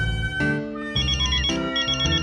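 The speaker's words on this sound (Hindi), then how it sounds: "अरे अंजलि का फोन।" Mobile phone ringtone playing a bright electronic melody of short repeated tonal phrases, loud and clear and close, alone without any talk.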